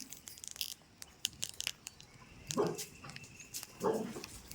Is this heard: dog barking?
yes